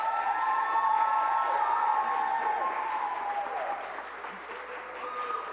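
An audience at a talk on homelessness funding gives a loud, sustained round of applause, thick even clapping that swells early and slowly tapers, with a few faint cheers and a voice in the background.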